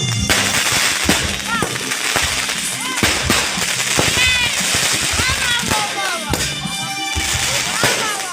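Fireworks shells burst in rapid, dense succession at an evening reception party, with loud crackling pops and whistling trails throughout. Voices talk underneath the noise.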